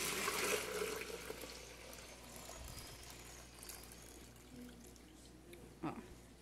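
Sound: pouring heated milk into a lidded bowl

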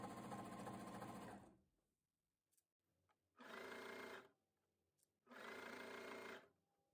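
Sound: cover stitch sewing machine stitching around a garment's bottom

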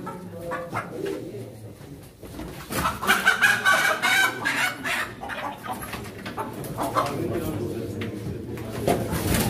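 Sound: ornamental chickens clucking at poultry auction

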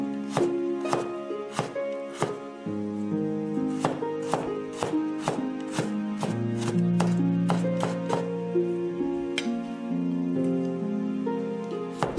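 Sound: knife chopping ginger into thin shreds

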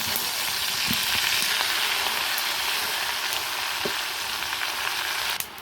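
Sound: mixed greens added to the pan, sizzling

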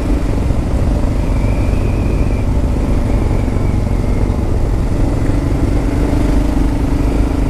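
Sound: Kawasaki KLR 650 motorcycle engine while riding

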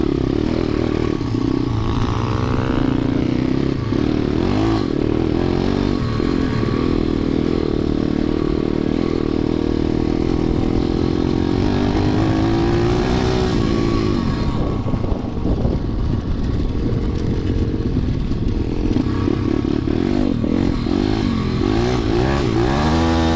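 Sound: KXD-PRO 2 dirt bike riding in sand

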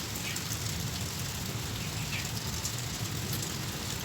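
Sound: rain

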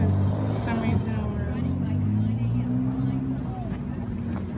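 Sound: Ferrari exhaust sound as the car drives away

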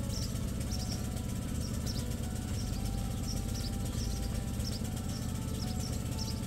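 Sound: Excellway 2200W petrol generator running unloaded, heard from 10 m

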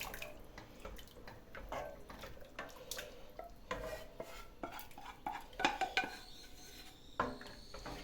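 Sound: stirring in a pot

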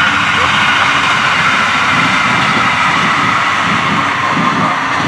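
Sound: train passing

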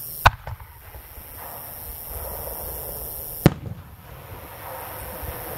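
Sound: 5 inch cylinder firework shell boosted with hot flash bursting

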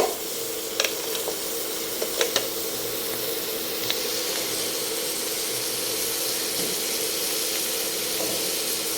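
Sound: crabs cooking in butter with garlic

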